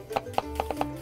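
A knife slices red onion into thin strips on a cutting board, making five quick, evenly spaced close chops in a steady rhythm.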